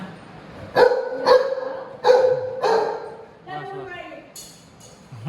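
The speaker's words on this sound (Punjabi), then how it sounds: "ਕਿਉਂ ਭੌਂਕਦਾ" A dog barks four times in sharp, evenly spaced bursts close by, followed by a softer whining yelp.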